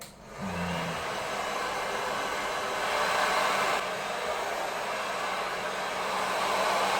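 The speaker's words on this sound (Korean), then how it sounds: "그냥 이 드라이기 사용해가지고 고개 숙여서 앞으로 막 말리면 돼요" A hair dryer blows with a steady, loud broadband whoosh, rising slightly in intensity midway, running continuously without any talking.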